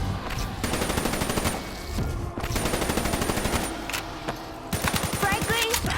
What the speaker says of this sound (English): Is it because I'm shooting you?